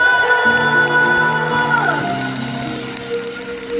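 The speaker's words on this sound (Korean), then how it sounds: "마지막으로 우리 댄서분들과 밴드분들과 특히 우리 희나 감독님을 위해서 박수! 박수!" A concert crowd at a K-pop encore cheers and screams loudly, with sustained high shouts ringing over a bright tonal backdrop that slowly fades.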